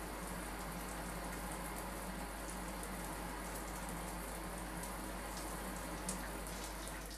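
Shower spray in the video game Prey, a constant soft hiss of droplets pattering onto a surface, even and unbroken throughout, quiet and nearby, no talking over it.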